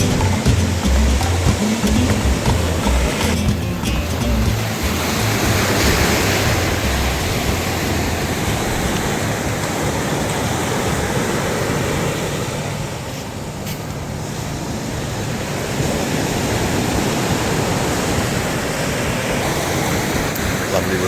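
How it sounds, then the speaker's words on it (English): Steady broadband wash of surf rolling onto Playa Fanabe beach in Costa Adeje, Tenerife, continuous and fairly loud, with a slight lull midway before the waves build again. "Lovely relaxing sound of the waves."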